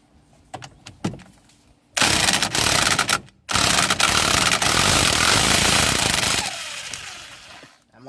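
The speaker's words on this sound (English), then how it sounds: "So use an impact gun. Don't try a ratchet." After a few light clicks, an impact gun hammers loudly on the steering wheel bolt of a 2019 10th-gen Honda Civic. A short burst is followed by a brief pause, then a long sustained rattle that fades as the bolt breaks free.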